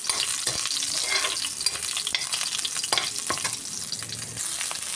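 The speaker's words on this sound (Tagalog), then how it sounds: "magigisa na ng bawang" Garlic sizzles and crackles steadily in a hot pan for chicken and pork afritada, a close, continuous frying hiss broken by occasional scrapes of stirring.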